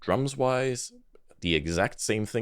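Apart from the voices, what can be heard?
No everyday noise stands out behind the speech.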